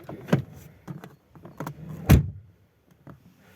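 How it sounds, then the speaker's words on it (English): An Alfa Romeo car door swings shut with a single solid, deep thump at close range, preceded by a few softer handling clicks and rattles, then quiet. "Now, these doors close excellently."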